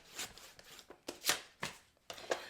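Pink card stock being cut to size for a handmade note card, a series of short, close, crisp slicing and rasping strokes with brief pauses between them.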